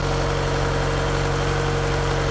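A BMW E30 barn-find engine idles steadily on its own, a close, loud, even mechanical hum with a regular low pulse and no voices.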